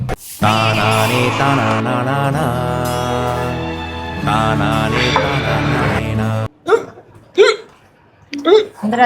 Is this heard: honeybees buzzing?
no